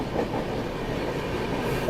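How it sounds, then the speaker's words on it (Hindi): Rajdhani Express train overtaking the Hazrat Nizamuddin–Bhusawal Gondwana Express, a close, loud, continuous rumble of wheels on rails with faint clickety-clack, heard alone. "Overtaking Hazrat Nizamuddin Bhusawal Gondwana express."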